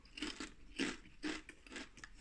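Crisp, close crunching of McCoy's fiery steak flavour ridged crisps, four distinct bites or chews spaced about half a second apart with no talking.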